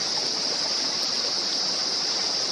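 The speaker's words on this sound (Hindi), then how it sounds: "नीचे से यही जल जाकर गुफा के ऊपर से झरने का निर्माण करता है" A waterfall spills over a cave near the ancient Bhadrakali temple in the Kamsyar valley, a steady close rushing wash of water with no break or voices.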